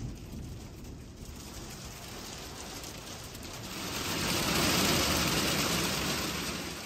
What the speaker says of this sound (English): I am in a hailstorm right now.